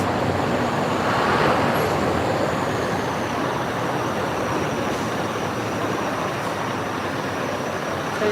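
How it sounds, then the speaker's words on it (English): Traffic rumbles through the Eysturoyar road tunnel, a loud, steady wash of tyre and engine noise from a couple of cars passing. "It's quite noisy right now because we have a couple of cars going through"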